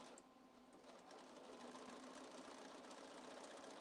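A sewing machine stitches along a seam on a small handmade birthday gift, running as a steady, continuous mechanical whir and hum from start to finish with no one talking.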